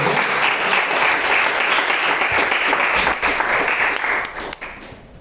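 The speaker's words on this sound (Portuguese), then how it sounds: "Aplauda o Senhor pela vida do Senhor." Church congregation applauding during a Portuguese-language worship service, a dense, steady wash of clapping that holds loud for about four seconds, then thins and fades out near the end.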